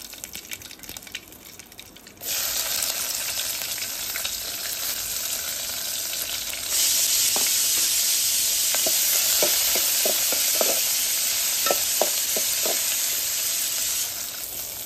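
Onion dropped into hot oil with bay leaf, starting a loud steady sizzle that swells further as more goes in, with small crackles and stirring taps over the continuous frying hiss.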